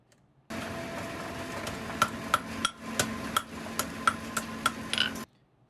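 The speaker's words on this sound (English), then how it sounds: "he's showing me now how to actually hand forge with the hammer" Hand forging a Japanese knife with a hammer: a series of sharp metallic hammer strikes, about nine or ten at an irregular steady pace, ringing close over a constant workshop hum, with no talk.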